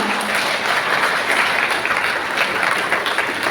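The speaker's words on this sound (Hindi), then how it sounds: "ताली तो बजा सकते हैं ना" An audience at a spiritual talk applauds together, a steady, dense roar of clapping that holds at an even level throughout, with a few murmuring voices.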